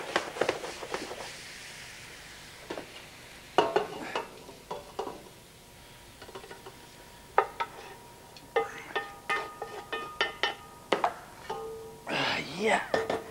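Herbs and vegetables for soup, with parsley and celery, sizzle and get stirred in a pan, giving soft frying hiss broken by scraping and clinking utensil sounds, with quiet talk and humming in the kitchen.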